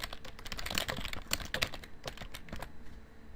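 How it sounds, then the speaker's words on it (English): Someone types text on a computer keyboard in quick, uneven bursts of close, crisp key clicks that go on without a break and fade a little toward the end. "So now I'm just going to type in some "we believe actions speak louder than words.""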